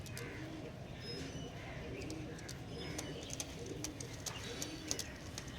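Soft, low pigeon coos repeat gently nearby, accompanied by a few light chirps and faint background voices.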